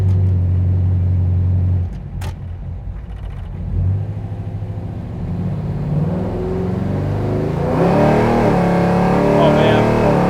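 An Oldsmobile 442 muscle car rumbles with a deep idle, then revs at quarter throttle, the engine swelling louder and rising in pitch as it pulls away, close and steady.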